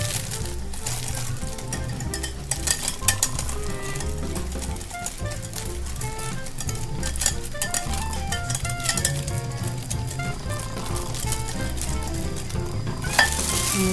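Vanilla powder, sugar and fine salt are mixed in a bowl for banana nuggets, giving a dense, continuous gritty scraping and clinking that keeps going throughout. The sound is close and steady, with no talking.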